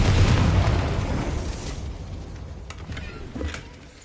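A Confringo blasting spell bursts in Hogwarts Legacy on PS5 with a loud, close boom that starts at full force and rumbles away over several seconds, with a few faint pops after it.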